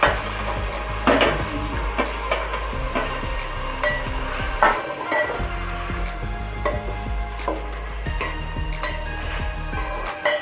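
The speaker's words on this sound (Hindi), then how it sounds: "अब हम इसे पकने देंगे 5 मिनट तक आंच पर" Yogurt-marinated chicken with ginger-garlic paste, coriander paste and spices cooks for biryani in a pot, with repeated clanks and scrapes of a spoon stirring over a low sizzle.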